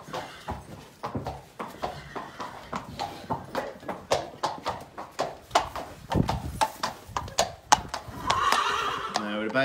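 A powerful, agitated horse neighs and whinnies while its hooves clip-clop in a steady, repeated rhythm, heard up close and loud, with people talking over parts of it.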